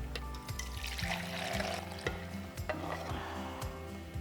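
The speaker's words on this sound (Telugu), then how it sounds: "కుక్కర్లో మటన్ బాయిల్ పెట్టుకున్న ఈ వాటర్నే వేస్తున్నా" Mutton stock water poured into a pot for pulao, a steady close gush of liquid with bubbling and clanking underneath, with no talk.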